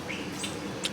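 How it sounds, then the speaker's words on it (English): A few short, high bird chirps ring out outdoors on a morning, faint and spaced apart over a soft background hush. "You can hear the birds chirping."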